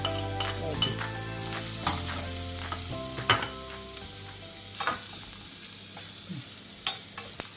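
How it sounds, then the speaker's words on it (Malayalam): Small pieces of chopped carrot and coconut fry in ghee for payasam, giving a soft sizzle broken by sharp spoon-and-pan clatters while a tonal hum fades in the background. "നമ്മൾ ചെറുതാക്കി മുറിച്ച് വെച്ചിരിക്കുന്ന ക്യാരറ്റാണ് കേട്ടോ കൂടെ കുറച്ച് നാളികേരം ചെറുതാക്കി മുറിച്ച് അതും ചേർത്തിട്ട് രണ്ടും കൂടി"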